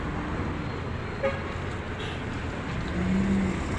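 Cars and trucks rolling off a large ferry running between Romblon and Masbate, a steady low roadway rumble from a moderate distance with a brief toot partway through and no talking.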